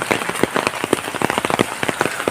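Heavy rain patters and splashes on a nearby surface, a dense, irregular drumming of drops that stays loud throughout.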